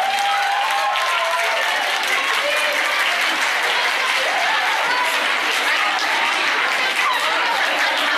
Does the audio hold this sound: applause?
yes